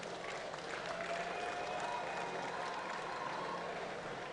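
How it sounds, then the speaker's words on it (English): Faint, distant applause from a crowd at the World Road Tennis Championship finals in Barbados, a steady wash of clapping that continues evenly throughout. "a round of applause"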